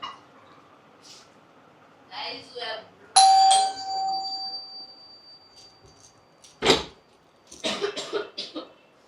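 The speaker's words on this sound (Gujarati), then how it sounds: "તમે સાંભળ્યું છે કે ડોરબેલ વાગ્યો છે" A household doorbell rings once with a bright chime near 3 seconds, its tone ringing on briefly, amid people talking and a cough in a family home.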